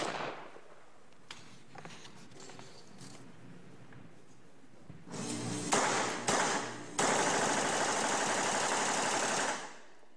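A rifle fitted with a bump fire slide shoots in rapid bursts, mimicking fully automatic fire, with a dense continuous roar of shots building louder in the second half and cutting off abruptly.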